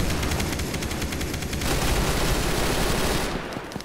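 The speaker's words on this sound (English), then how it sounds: "Tommy gun works" Rapid automatic Tommy gun fire inside the Roblox video game, a dense burst of shots rattling continuously for several seconds at close range before tapering off, with no talking.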